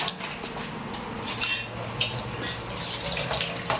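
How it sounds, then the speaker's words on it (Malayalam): A kitchen tap runs while cooking pans and utensils left from making homemade French fries are rinsed and scrubbed, with water splashing and occasional clinks and knocks of metal over a steady flow. "പാത്രങ്ങൾ അപ്പപ്പോ തന്നെ ക്ലീൻ ചെയ്യുക"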